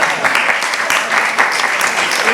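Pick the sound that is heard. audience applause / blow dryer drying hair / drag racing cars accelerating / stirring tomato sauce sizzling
audience applause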